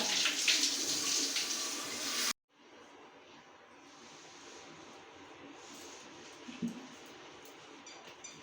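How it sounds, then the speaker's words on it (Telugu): A clay pot for Ugadi pachadi is washed under running water: a loud, close rush for about two seconds cuts off abruptly, followed by softer splashing and rinsing. "పచ్చడి కోసం కుండ తెచ్చుకున్నాం కదా నిన్న మంచిగా నీట్గా కడుక్కోవాలి"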